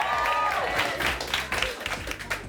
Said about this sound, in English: Just cheer if you think it's yes.